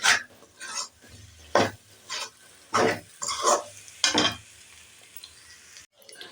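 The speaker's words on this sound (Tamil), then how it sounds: "விடாமல் கிண்டிக்கிட்டே இருங்க," Potato masala being stirred in a pan, with repeated rasping scrapes of a spoon in bursts, close and fairly loud, with a brief gap near the end.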